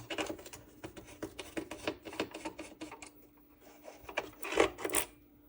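Screwdriver clicks and rasps while removing screws from an original Xbox console, the screws partly cut down by an angle grinder, heard as a busy run of close, sharp ticks and scrapes with a couple of louder knocks near the end.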